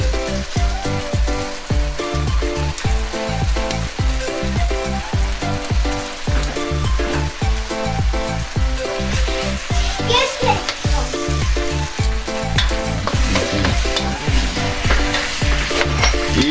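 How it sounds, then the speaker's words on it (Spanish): Spaghetti being sautéed with shrimp and tomato sauce in a hot pan, a loud continuous sizzle broken by rhythmic stirring and tossing scrapes throughout. "Vamos a saltear el espagueti con el camarón y la salsa de tomate"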